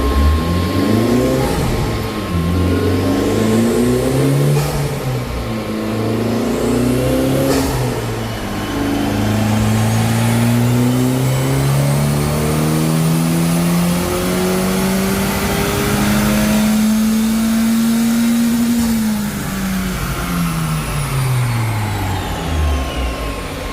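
A Honda Civic Type R FL5 on a dyno with a Hondata 91 stock tune, its engine revving loud and close in long rising pulls, the pitch climbing steadily and then dropping away, with no voices over it.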